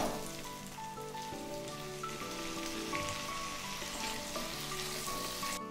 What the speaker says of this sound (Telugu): అవి ఇప్పుడు ఇందులో వేసి వేగనిద్దాం